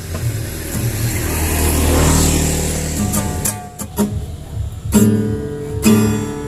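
Motorcycle engine revving up close and loud, a sustained roar building over the first few seconds before breaking into shorter throttle blips and pauses, with no talking.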